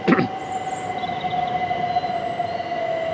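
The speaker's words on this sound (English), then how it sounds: "That train is heading for London." A train passes on a line heading for London, a steady rumble with a sustained metallic wheel squeal or whine running throughout, fairly close and continuous with no talk.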